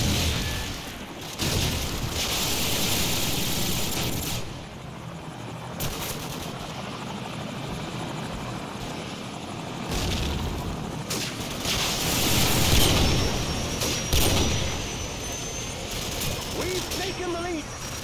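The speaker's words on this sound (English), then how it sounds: "Helicopter on the way!" A helicopter in the Call of Duty 4 multiplayer match on the Backlot map thrums steadily overhead, mixed with scattered gunfire and booms, while game voices call out.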